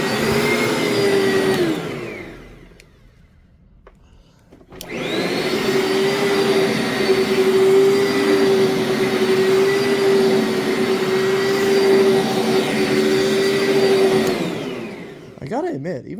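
An Oreck XL American Heritage single-speed upright vacuum cleaner runs with a loud, steady motor whine, cutting off briefly and starting again before winding down.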